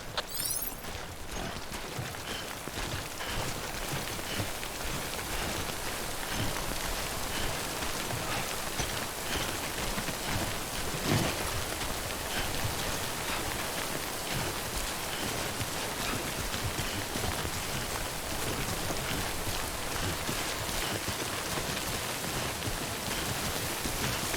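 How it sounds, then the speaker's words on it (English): Timefall rain from the video game Death Stranding pours in a constant, loud hiss of drops striking surfaces, unbroken for the whole stretch with no voices. "Don't stay out in the rain any longer than you have to."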